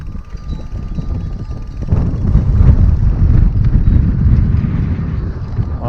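Strong mountain wind roars and buffets the microphone during an e-bike descent near Col de la Pierre St Martin and Sainte-Engrâce, swelling louder partway through and staying continuous to the end.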